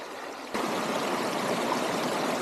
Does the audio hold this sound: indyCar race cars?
no